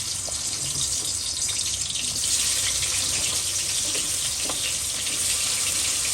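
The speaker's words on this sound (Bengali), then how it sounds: "তো এখন পটলগুলো ভেজে নেবো।" Pointed gourd (potol) rubbed with turmeric and salt fries in hot mustard oil, a loud, close, continuous hiss and sizzle with no talking.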